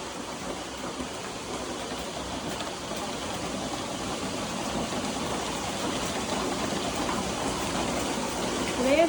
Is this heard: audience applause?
no